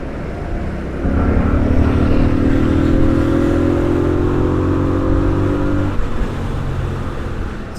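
A Honda Rebel 1100 DCT motorcycle accelerating onto a freeway. The engine drone climbs steadily in pitch for several seconds, then drops briefly as it shifts, over steady road and wind noise.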